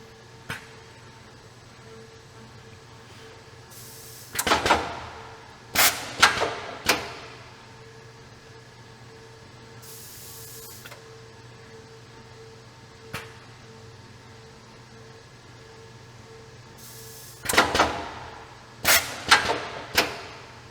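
An AutoStix machine runs an empty strip test, with a low steady motor hum broken by clusters of sharp mechanical clacks and snaps repeating in bursts.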